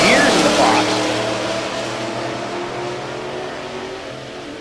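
Drag racing cars at a raceway launching hard, loud at first as the engines rev and shift gears, then fading as they pull away down the strip, with a commentator talking over it.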